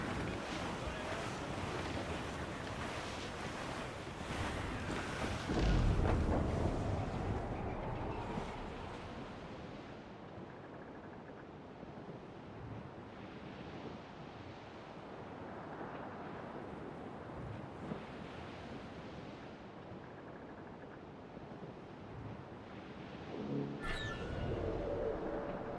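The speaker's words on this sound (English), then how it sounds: "Dark skies and rough seas there!" A sailing ship pitches through rough seas in the pirate game Assassin's Creed IV Black Flag, with steady wind rush and surging waves that swell briefly near the start and a sharp brief sound toward the end.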